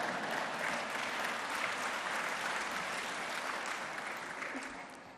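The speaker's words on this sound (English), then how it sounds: "That deserves a round of applause right there" An audience at a State of Metro address claps in sustained broadband applause that fades slightly toward the end.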